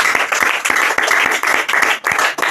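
A church congregation applauds in sustained, dense clapping with rhythmic pulses, loud and close, no voices standing out.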